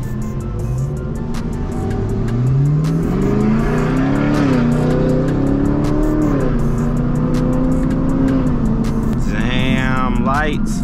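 A Chevrolet Camaro SS exhaust heard from inside the car with windows down, a loud steady engine drone rising and falling through gear changes, with a sharper rising rev near the end.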